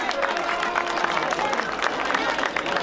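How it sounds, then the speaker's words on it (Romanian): Audience applause and crowd noise at the Rarău mountain festival, a dense, steady wash of clapping from a large outdoor gathering lasting the whole stretch, with faint babble mixed in. "Haideți cu aplauze!"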